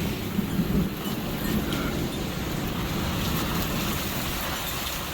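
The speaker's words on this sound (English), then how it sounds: "super bad storm moving through" Severe thunderstorm in June with steady heavy rain roaring throughout, a low rumble of thunder building near the start, and wind gusting in the background.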